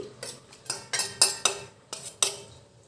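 A spoon scrapes and clinks against a pan in a quick series of about eight metallic strokes, close and distinct, stirring raw tamarind paste into oil for chicken pickle.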